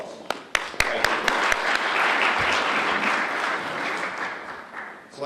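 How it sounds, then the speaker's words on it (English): A crowd applauds the Chamber of Commerce Government Affairs Committee at a morning congressional candidate forum, a dense, steady wash of clapping with a few sharp individual claps early on, fading slightly toward the end. "let's give the Government Affairs Committee for the Chamber a round of applause"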